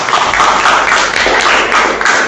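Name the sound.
applause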